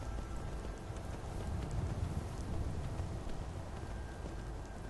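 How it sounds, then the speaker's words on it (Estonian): Steady rain falling in a forest in Skyrim, a continuous soft hiss of drops with faint patters and muffled hoof-like thuds underneath, even and unbroken throughout. "Vihmases metsas."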